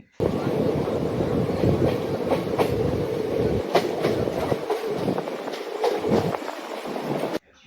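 A passenger train from Kolkata to Varanasi rushes along at over 100 km/h at night, with a continuous rumbling roar, rhythmic clacking of wheels over rail joints and gusts of wind noise.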